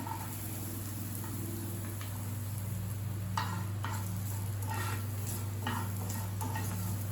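Garlic sautéing in a pan for a potato and pork sausage stew, a faint sizzle with a few scattered spoon scrapes, heard over a steady low mechanical hum.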